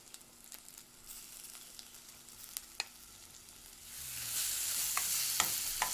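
Potatoes and dal frying in a pan with spices as a spoon stirs them, a steady sizzle with scattered scraping clicks that swells louder and brighter toward the end as more goes in.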